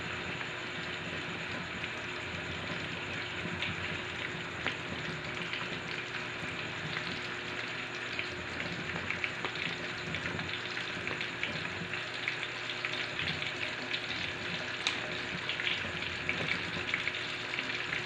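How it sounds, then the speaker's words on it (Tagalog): Chicken fries in a pan, an even, continuous sizzle with fine crackling spatters running steadily throughout at moderate volume, no voices over it. "Tayo ay magprito na ng ating chicken."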